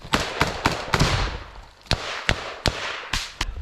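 Explosions and gunfire in a combat firefight between infantry positions, a series of sharp loud bangs at irregular intervals with crackling decay, close and unmuffled, no talk over them.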